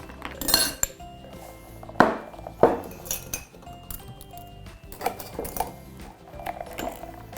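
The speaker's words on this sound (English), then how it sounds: "Grab a Collins glass here, highball glass, whatever you call it" A Collins highball glass is handled on a bar counter, giving several sharp glassy clinks and knocks at irregular intervals among softer handling noises, close and fairly clear.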